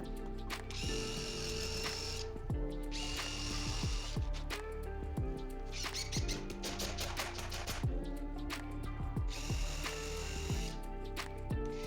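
Power drill countersinking screw holes in a kitchen island, repeated short whirring bursts with pauses between them and ratcheting clicks, close and alone without talk.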